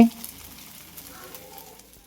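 Food cooks on two griddles at once while a large breakfast order is prepared, a moderate steady sizzle after a short opening thump, with no talking.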